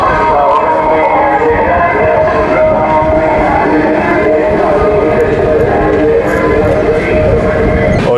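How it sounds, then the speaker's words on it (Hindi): A passenger train passes at Varanasi, a loud, continuous rumble of wheels and carriages close by, with a faint horn and voices mixed in. "ये भी मतलब काफ़ी प्रायोरिटी वाली ट्रेन है यार, बहुत अच्छी ट्रेन है।"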